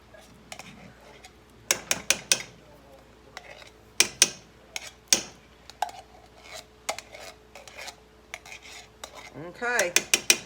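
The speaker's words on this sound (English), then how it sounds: "Now we're going to stir that up in there. Stir it around." Utensil scraping and clinking against a pot while stirring a can of tomato paste into homemade spaghetti sauce, in irregular bursts of close scrapes and knocks.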